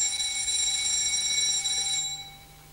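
An alarm clock rings in the morning with a bright, steady metallic tone that stops abruptly after about two seconds, alone in a quiet room.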